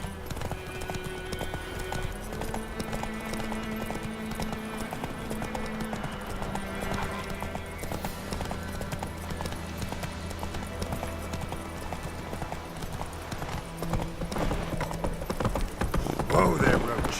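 Horse hooves clip-clop steadily in The Witcher 3, a brisk even rhythm under continuous game music and ambience, with characters talking over it throughout.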